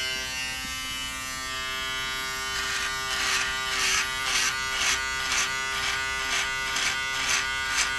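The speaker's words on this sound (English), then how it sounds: "Want to shave a little more?" An electric shaver trimming facial hair into a mustache shape gives a steady, close buzz that pulses with repeated strokes through the second half.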